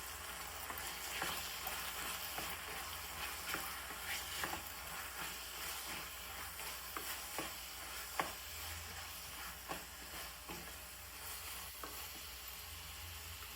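Coriander and chili powder sautéed in a pan for paneer gravy, giving a steady soft sizzle with scattered scraping stir strokes, close and moderately quiet, no voices.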